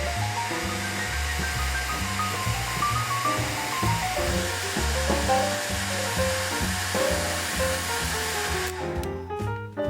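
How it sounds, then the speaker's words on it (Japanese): A hair dryer blows steadily to dry a watercolor pencil painting, giving a continuous airy hiss that runs almost to the end beneath background music and then cuts off. "ドライヤーを使って乾かします。"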